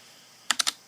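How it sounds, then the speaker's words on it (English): Three quick keystrokes on a computer keyboard, close to the microphone, sharp and distinct in a quiet room with no one speaking. "I hope my keyboard isn't too close to my microphone here."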